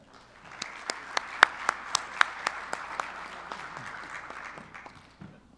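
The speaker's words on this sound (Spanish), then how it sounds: "Un fuerte aplauso para ellos." Audience applause at a roundtable of institutional investor CEOs, a steady burst of crisp clapping from a modest crowd lasting several seconds before tapering off.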